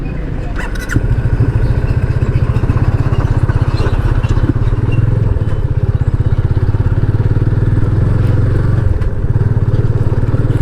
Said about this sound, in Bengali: ওই যে পিছনের বাইকটা দেখেন উড়াউড়ি করার চেষ্টা করতেছে